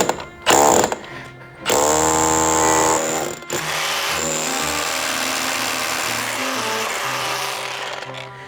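Hammer drill boring into concrete for anchor bolts near joists, close to rebar: loud bursts of grinding drilling that stop and start, then a steady sustained drilling run.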